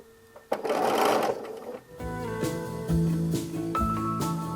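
A sewing machine stitching quilt triangles for flying geese blocks, a close, steady mechanical whir and rapid needle chatter running for a couple of seconds, with a handling rustle just before.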